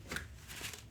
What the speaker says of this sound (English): they also have that linen finish that gives them enough grip when you're shuffling them